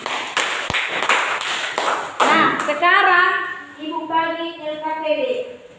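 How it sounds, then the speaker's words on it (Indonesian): Classroom applause for a student named Titin: a short burst of scattered hand claps from pupils, close and uneven, quickly giving way to a voice speaking. "Ya, tepuk tangan untuk Titin."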